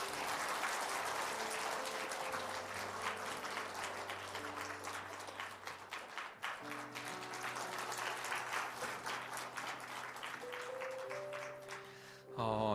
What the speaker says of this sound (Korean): 큰 박수 해주시죠